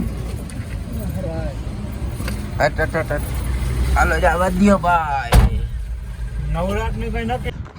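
A car engine running under a steady low rumble while several people talk loudly nearby, with a sharp door-like thump partway through.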